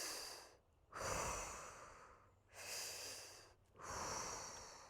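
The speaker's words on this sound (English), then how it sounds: "And breathe." Slow, deep breathing exercise for sinus and head pressure relief: three long, close inhale-exhale cycles with soft airy rushes and brief pauses between, heard alone.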